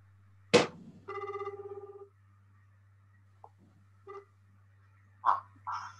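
A telephone rings on an outgoing call with a hands-free line, a short burst of electronic ringing after a brief click, then faint scattered tones and clicks over a steady low hum, quiet and alone.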